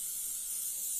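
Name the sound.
basting spray being sprayed onto fabric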